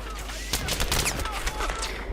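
Rapid bursts of gunfire in the video game Battlefield 3 crackle close by, a fast sequence of shots with sharp cracks over a steady low rumble.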